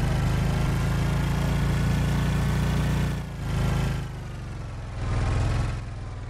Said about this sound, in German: Motor mal ausstellen.